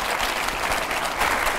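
Loud, dense applause from a studio audience on a Hindi television debate set, a steady wash of many hands clapping with no break across the short stretch.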